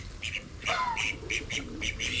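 Ducks quack and squawk in short repeated bursts, several calls close by over a faint background, as they feed on dead shrimp and fish thrown to them.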